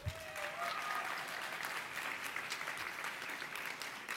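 Gala dinner audience at a convention breaking into applause, a dense, steady clatter of many hands clapping that holds evenly throughout, with a brief whistle-like tone near the start.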